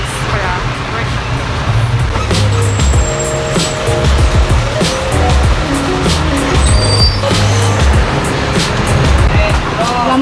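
Busy street traffic in Cebu, Philippines rumbles steadily nearby, with engines, passing vehicles and occasional horn tones forming a loud, continuous roar, and a voice speaks briefly over it.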